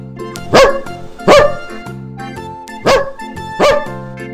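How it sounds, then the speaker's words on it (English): Four sharp, close dog barks in a loose, uneven rhythm stand out over light, continuous backing music in a children's farm-animal sounds lesson. "Dog."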